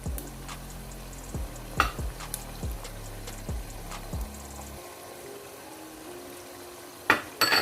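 Green chilies fry in a pan for egg chana masala, giving a soft sizzle under a series of regular metallic clinks and scrapes from stirring, then a quieter stretch before a few sharp final knocks.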